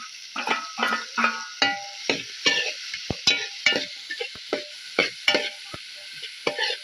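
Garlic, green chilli and ginger frying in a pan, crackling sizzle with repeated close spoon scrapes and taps in an uneven rhythm, no talking.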